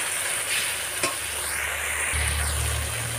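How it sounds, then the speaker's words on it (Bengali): Masala spice paste fries in oil in a pan for a Bengali potol and prawn curry, with a steady close sizzle and stirring scrapes throughout and no talking. "মশলাটা ভালোভাবে কষা হয়ে গিয়েছে,"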